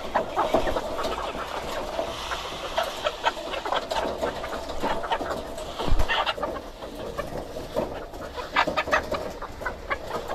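Several chickens being sprayed with water cluck and murmur nearby in a busy, irregular chorus, with occasional louder squawks and rustling.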